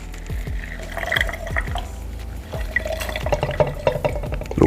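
Lemon juice squirts into a small bar measure while a whiskey sour is made, quick wet spurts and drips in short bursts close by, with no talking.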